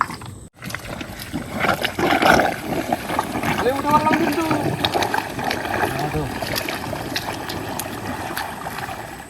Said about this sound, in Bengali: খুলে আস্তে আস্তে নৌকোটা নামাই নেবো